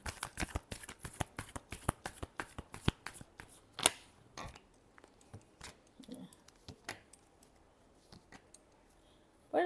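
Tarot cards are shuffled by hand in a quiet room, giving a rapid series of crisp riffling snaps and soft slaps that thin out toward the end.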